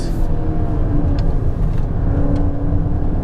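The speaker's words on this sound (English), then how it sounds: "Check out the downshifts." Engine of a new Volkswagen Golf GTI downshifting on a drive, a steady low car drone heard from inside with faint brief blips, fairly loud and continuous.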